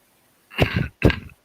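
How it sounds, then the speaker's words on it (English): Two quick, harsh coughs come from someone close by during a live stream, the second following the first almost at once. "Sorry, coughing at you a lot again."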